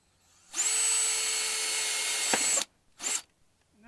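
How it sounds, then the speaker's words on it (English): An electric drill bores a hole through a plastic bucket in one steady high whine of about two seconds, close and loud, followed by a brief second burst. "Just drill your hole."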